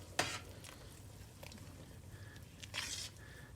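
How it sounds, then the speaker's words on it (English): A pot of Maryland crab soup being stirred, giving a few quiet scraping swishes and soft splashy bursts, faint and close with no talking. "then you stir this around, get everything mixed together"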